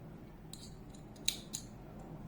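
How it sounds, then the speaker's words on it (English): Scissors snip through crochet yarn in a few short, quiet cuts, with two sharper clips close together near the middle, against a faint room hiss and no speech. "cutting the yarn"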